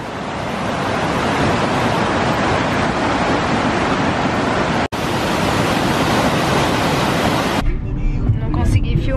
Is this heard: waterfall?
yes